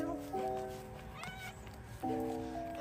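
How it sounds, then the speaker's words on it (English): A cat meows twice, each call a clear, fairly close mew with a short gap between, one near the start and one about two seconds in, over faint room noise. "I'm following you, little kitty."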